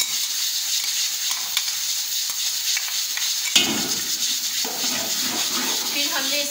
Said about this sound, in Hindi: मसाले जब थोड़ा सा भून जाएं, तकरीबन 3 से 4 मिनट तक इनको भूनना है